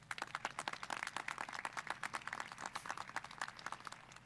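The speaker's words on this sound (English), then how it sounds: "So let's give our board a round of applause." A graduation audience applauds the school board at a high school commencement ceremony, steady dense clapping from a large crowd filling the space, sustained throughout without voices.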